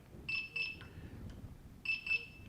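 A v2 alarm unit beeps in two short paired bursts of high electronic tones, repeated after a pause, moderately loud over a quiet background hum.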